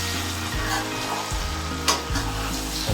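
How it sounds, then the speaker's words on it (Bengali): Onion and chicken pieces sizzle and crackle steadily in a hot pan for curry, with low stirring scrapes and a brief sharper spatter near the end, no talking. "পেঁয়াজটা আর চিকেনটা একসঙ্গে এর মধ্যে আমি ফ্রাই করব।"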